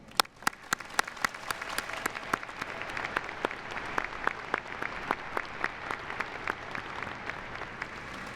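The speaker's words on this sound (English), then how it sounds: "give yourself a round of applause" Audience applause at a fall graduation recognition ceremony for a college of business, a steady wash of many hands clapping with sharp individual claps standing out, moderately loud and sustained throughout.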